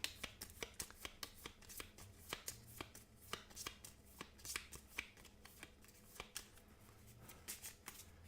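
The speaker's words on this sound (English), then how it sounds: "So her ultimate deck is these 5 cards, which we will shuffle up" Small deck of five board game cards from the cooperative game Aeon's End being shuffled by hand, a quick run of crisp riffling snaps and soft slaps repeating steadily, close and fairly quiet.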